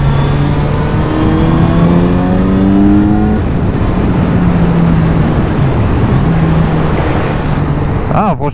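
A 2021 Kawasaki Z900 RS motorcycle accelerating hard, its engine note climbing steadily through the gears, loud and close, with a brief dip and a recovery before the end.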